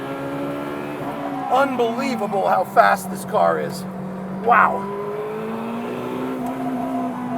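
A Czinger 21C high-downforce car's engine drones and rises in pitch as it accelerates on a race track, with a few brief exclamations from a voice over the motor.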